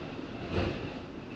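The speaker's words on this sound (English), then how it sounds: "And you can hear that street noise behind me." Steady low rumble of street traffic in the background, a vehicle passing and swelling briefly midway, fairly faint with no voices.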